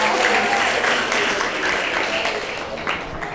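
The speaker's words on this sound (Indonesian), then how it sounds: "Tepuk tangan sekali lagi" A school student leadership camp crowd at SMKN 70 Jakarta claps loudly and steadily. The dense clapping fills the whole stretch, stays close and even, and tapers slightly toward the end with no voices on top.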